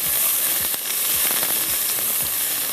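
Onions stir-fried in a pan give a loud, constant sizzle with dense crackle, and a spatula scrapes and stirs now and then. No voices.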